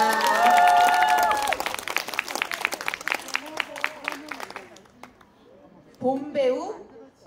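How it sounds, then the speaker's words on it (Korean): Applause from the audience at a village arts-documentation presentation event, dense clapping at first that thins and fades, with a voice speaking over it and again near the end. "박수 부탁드리겠습니다."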